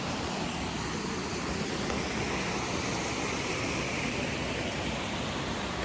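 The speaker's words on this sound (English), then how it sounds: "we got some good water flow going here" Sandy River rushing after a night of rain at a rest stop, a dense, steady roar of flowing water that holds even and close throughout.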